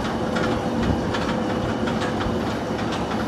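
Roller coaster train running at Six Flags Great Adventure during Holiday in the Park, a continuous loud rumbling roar with rattling clicks along the track, steady throughout with no talk.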